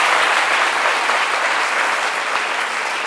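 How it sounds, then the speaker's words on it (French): A studio audience on a French-language midday show applauds loudly and steadily, thick continuous clapping with no voices over it. "Merci de les applaudir encore très"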